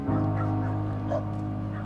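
A captured stray dog whimpering and yipping in a high, wavering whine over a steady low engine-like hum, close and alone without talking.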